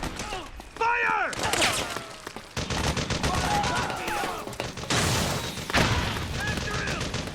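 Bursts of automatic gunfire and booming shots from the Metal Gear video game, loud and continuous, with shouted voices of soldiers mixed in during a base assault.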